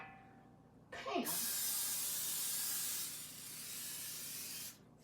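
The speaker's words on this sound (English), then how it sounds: "Spray it real good." A close, steady aerosol hiss of cooking spray onto a meatloaf pan starts abruptly and runs for several seconds, dipping slightly midway before cutting off.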